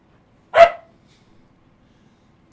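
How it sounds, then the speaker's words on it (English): One sharp, close dog bark from an anime episode rings out once, then near silence follows, with only a faint hint of another bark at the very end. "We're about to get a bunch of dog barking."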